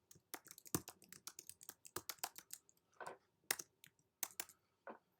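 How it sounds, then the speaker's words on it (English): A computer keyboard being typed on while entering a password during a WordPress install on a Windows 10 PC: irregular, quick, close clicking keystrokes in uneven bursts, quiet and with no voices. "So I'm typing on difficult password."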